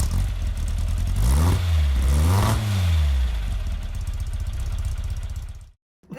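Engine of her own car, bought brand new and kept as a daily driver, revving in close, loud rising and falling bursts before settling to a steady idle and cutting off.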